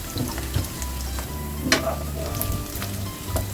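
Onion and whole garlic cloves frying in hot oil, a steady close sizzle with soft crackles and occasional light utensil taps, no voices.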